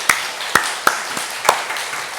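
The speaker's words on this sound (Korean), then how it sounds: "하나님께 영광의 박수 돌려드리겠습니다" A church congregation gives a few sharp, scattered claps of praise at a Sunday service. The distinct claps ring out in an uneven sequence over a quiet, reverberant room.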